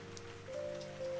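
Steady rain falls on surfaces in the Vancouver area, a soft continuous patter with a low hum running beneath it, faint and even throughout.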